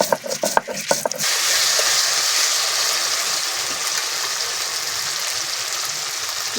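Whole cumin and coriander seeds with dried red chillies being ground: a few brief knocks and clatters, then a continuous, close, rough whirring grind that holds steady to the end.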